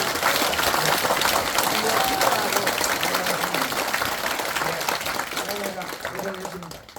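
Large audience applause at a ceremony for a presidential statue and a book launch event, loud sustained clapping from a packed hall that slowly tapers toward the end, with faint voices mixed in.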